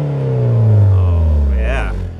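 A 1995 Toyota Celica GT-Four ST205 engine revs up with a deep rising and falling drone, loud and close, and a voice speaks briefly over it near the end.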